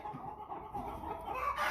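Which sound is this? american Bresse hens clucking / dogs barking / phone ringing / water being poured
american Bresse hens clucking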